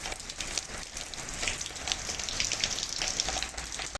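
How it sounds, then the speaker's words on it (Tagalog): Steady rain falls on leaves and surfaces in a garden, a continuous close hiss of dense drops and patter with no voices. "Mga nag-aabang na tumahan ang ulan."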